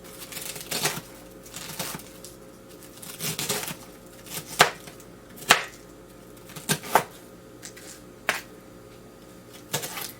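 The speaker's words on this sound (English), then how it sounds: "Cut these really small as I can get them. And it pretty much is just shredded already. And just turn it over and cut it a little more." A knife chops cabbage on a cutting board for coleslaw, making close, crisp, scattered taps and thuds in irregular clusters over a quiet background, with no talking.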